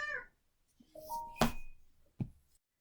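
A house cat meows a couple of times indoors, short rising and falling cries close by separated by quiet gaps, with a soft thunk near the end.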